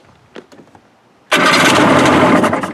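A rebuilt Seadoo GTX 657 personal watercraft engine cranks with a few faint starter clicks, then catches and roars loudly into a steady, rough, buzzing run that holds strong to the end.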